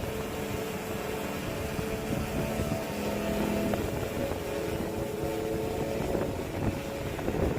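DJI Phantom 3 Standard drone fitted with carbon fiber props climbing on takeoff, a steady buzzing motor drone with faint tonal whine, partly masked by gusty wind rumble throughout.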